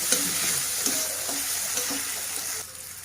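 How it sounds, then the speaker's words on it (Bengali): Chopped tomato goes into a pan of fried onions, giving a steady bright sizzle with a few stirring scrapes; the frying fades slightly near the end, with no talking. "পেঁয়াজটা ভাজা হয়ে গেছে, দিয়ে দিচ্ছি কটা টুকরো করে রাখা টমেটো।"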